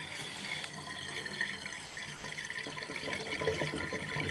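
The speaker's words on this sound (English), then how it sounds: "Running the cold water," Cold water runs steadily from a kitchen tap into the sink to rinse the dye and wax from a dyed kite, a soft, continuous hiss and splash heard at low level without talk.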